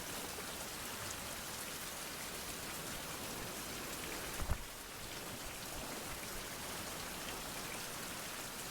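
Heavy tropical rain pours steadily on a tiny island, a dense even hiss of drops hitting surfaces around close by, with one brief heavier knock midway and no voices.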